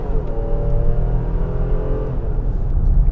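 A Nissan Pathfinder's 3.5-liter naturally aspirated VQ V6 accelerates, a steady droning engine note with a rising tonal whine heard from inside the cabin, continuous and fairly loud for a few seconds.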